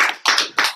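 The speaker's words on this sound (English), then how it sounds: "How about a round of applause?" Three sharp, loud hand claps in quick succession at a presentation, close by and spaced evenly, with no talking.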